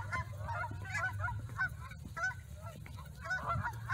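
A group of waterfowl honking and quacking repeatedly in bursts, fairly close, over a steady low rumble of background noise.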